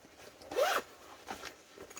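A garment zipper pulled during sewing gives one quick, close rasping zip, followed by a couple of fainter, softer zip scrapes.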